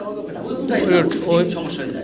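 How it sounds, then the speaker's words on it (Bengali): Large Lahori pigeons coo while turning in circles, a close, soft, rolling burble in short swells, partly under a voice talking over them. "বিশাল সাইজের কবুতরগুলো দেখতে দেখেন ঘুরে ঘুরে ডাকতেছে"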